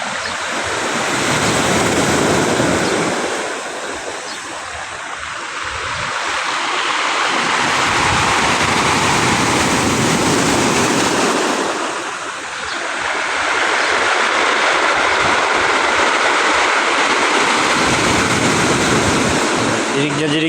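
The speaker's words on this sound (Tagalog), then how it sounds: "hampas ng alon sa bato" Sea waves crash against shoreline rocks at Ilijan, Batangas, in broad roaring surges that swell, ease briefly and surge again, mixed with heavy wind buffeting the microphone.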